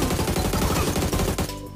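Rapid, sustained automatic gunfire in a shooting video game, dense bursts rattling loudly and continuously, then stopping abruptly near the end, with no speech.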